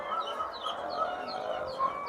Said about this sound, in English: these birds are caged